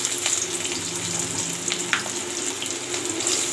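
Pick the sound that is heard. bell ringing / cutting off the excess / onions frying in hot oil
onions frying in hot oil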